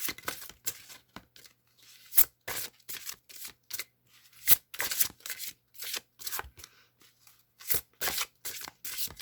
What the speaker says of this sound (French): On va prendre juste une carte.